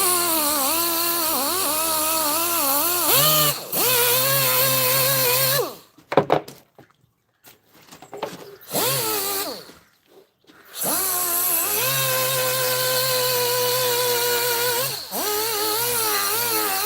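A rotary power tool polishes a Honeywell Turbovisor DTVR visor mask, its loud whine rising and falling in pitch and cutting out twice for a few seconds in the middle before running on again.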